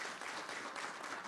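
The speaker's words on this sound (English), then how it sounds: "Round of applause." Conference audience clapping for the event's co-chairs, a brief dense burst of applause from a room full of people.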